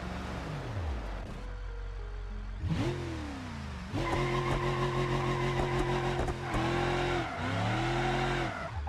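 A racing car engine in a racing video game played on a DIY sim rig revs hard, pitch sweeping up and down through gear shifts, loud and continuous with no talking.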